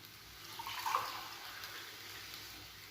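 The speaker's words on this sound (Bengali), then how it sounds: "তাই এই বড় কাপের 2 কাপ আমি এখানে জল দেব।" Water pours from a cup into a pot holding rice for a soya chunk pulao, a faint, steady splashing stream that swells briefly and then settles, heard alone.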